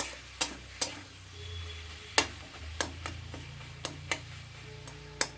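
A spoon stirs and mixes a sweet-sour green chili pickle in a bowl, giving scattered sharp clicks and taps against the bowl over a faint low hum, at an irregular, unhurried pace.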